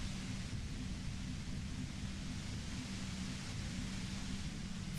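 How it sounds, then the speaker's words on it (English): Steady white-noise static in the video game Disco Elysium, a loud, even hiss that fills the whole stretch without a break or any voice. "You hear through the white noise. It's especially bad suddenly."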